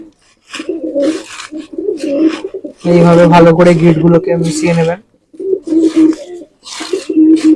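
Pigeons coo in short, low, throaty bursts in the middle of the recording, mixed in with a person talking almost throughout while preparing pigeon feed at home.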